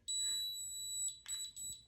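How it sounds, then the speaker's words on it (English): A NuSkin facial spa device gives off high, thin electronic beeps: one long tone, then a few shorter pulses, close and clear in an otherwise quiet room. "That's why it keeps beeping like that for you."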